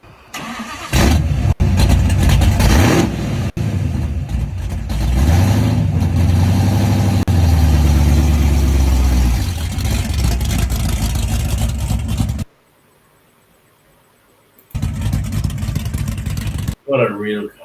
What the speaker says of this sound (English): What a real car sound.